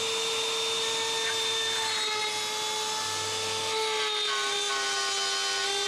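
A saw blade cuts through a piece of wood on a workshop jig, a steady high whine running without a break at close range.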